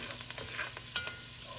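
Oil popping and sizzling in a pan with rosemary and thyme, a quiet continuous hiss with a few small sharp crackles and pops.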